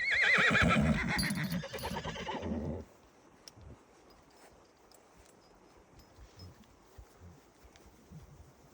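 Loud whinnying of horses and foals for the first few seconds as foals are released after mare milking, then quieter shuffling and faint movement sounds.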